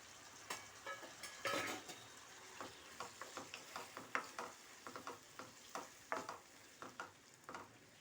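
Finely chopped tomatoes frying in a pan, a steady soft sizzle broken by a regular run of scraping stirs and clicks from a spoon against the pan, close up with no talking.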